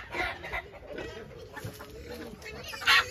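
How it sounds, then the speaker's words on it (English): A hen from an old gray F1 rooster of the Bengal line gives soft, close clucks, ending in one louder, sharper call. "this hen that is off of the old gray F1 rooster"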